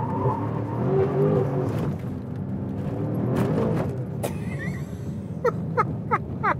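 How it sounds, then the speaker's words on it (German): A BMW M5 CS with G-Power tuning, rated 800 PS and 1050 Nm, spinning its wheels in third gear: a loud, close engine roar rising and falling under acceleration, ending in a string of sharp, quick bursts. "Im dritten Gang durchdrehende Räder."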